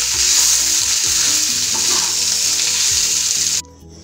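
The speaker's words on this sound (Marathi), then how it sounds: "हे सगळं मिश्रण आपल्याला एकजीव हलवायचं आहे" Spiced potato filling for vada pav is stirred and mixed with salt in a pan, producing a loud continuous sizzle with scraping stir strokes that cuts off abruptly near the end.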